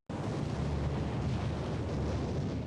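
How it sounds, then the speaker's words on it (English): Naval guns from battleships, cruisers and destroyers bombard the Normandy coastline, a continuous dense roar of overlapping explosions and artillery blasts, loud and unbroken throughout with no voices. "Nearly 200 ships bombard 50 miles of the Normandy coastline."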